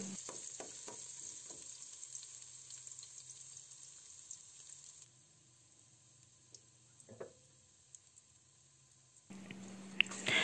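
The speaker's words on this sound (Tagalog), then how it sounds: "At kapag mainit na ito, ilagay na natin ang ating hiniwang luya. Ayan, lutuin lang natin ang luya ng mga ilang minuto lamang." Sliced ginger fries in hot oil for chicken tinola, giving a soft, close sizzle with scattered crackles. The sizzle quiets briefly midway and swells again at the end.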